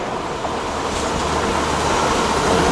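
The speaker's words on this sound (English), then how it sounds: "There is a local passenger service, the Leamington Spa service, and that's a southbound one, and that's on the running main line." A southbound local passenger train to Leamington Spa rolls along the main line at Kenilworth Junction, giving a steady broadband rumble and rush that holds at moderate loudness and grows slightly toward the end.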